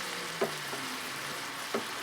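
A steady, soft sizzle of pecans frying in butter in a pan, with a couple of faint clinks of stirring.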